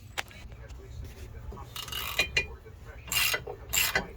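A bolt on a TruHart adjustable rear upper camber arm of a Dodge Challenger is tightened, with close mechanical clicking and ratcheting in short irregular bursts that grow louder toward the end. Light background noise sits underneath.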